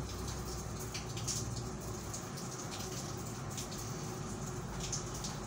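Soaked rice tipped into a pot of beef matka pulao, a steady low wash of watery bubbling and splashing with faint crackles, moderately quiet and continuous, no talk.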